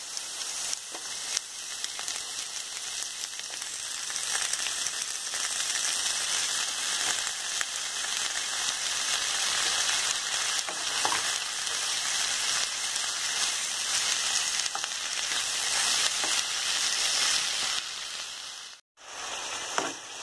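Spinach and potatoes with turmeric and salt frying in a pan, a dense hissing sizzle that runs steadily, dips briefly near the end, then returns, with no talk.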